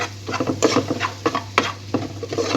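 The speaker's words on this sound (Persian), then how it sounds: "و شروع میکنم تفت دادن، سرخ کردن" Crushed garlic and black pepper fry in a pan, with a soft constant sizzle under irregular scraping and stirring strokes of a utensil against the pan.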